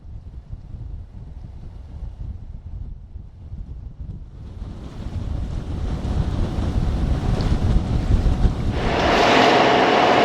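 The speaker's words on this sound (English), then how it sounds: "it is blowing. It is blowing. Blowing 25 to 28, gusts to 30." Strong wind gusting over open water on the Intracoastal Waterway near Swansboro, a steady roar with waves and surf building louder and brighter toward the end, heard from aboard a sailboat.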